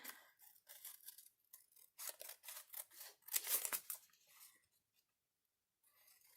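Scissors snip through teabag-stained paper close by, a quick run of crisp cuts in short bursts, then a brief pause and a last faint snip, with no voices.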